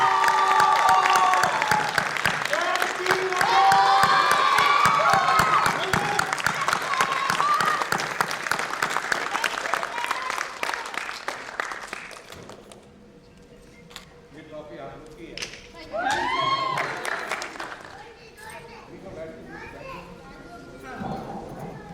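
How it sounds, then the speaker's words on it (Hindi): Loud, dense applause from an audience with many children, cheering a winning performance team, runs steadily for about twelve seconds and then breaks into scattered claps and children's chatter. "जोरदार तालियां हो जाए प्रथम टीम विजेता के लिए।"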